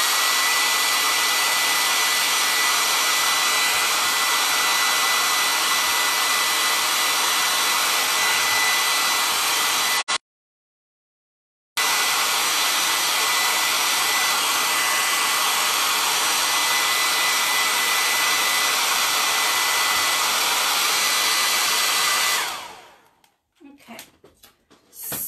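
A hair dryer blows steadily and loudly over wet candy apple red paint on wood, cutting off briefly partway through, then starting again and winding down at the end.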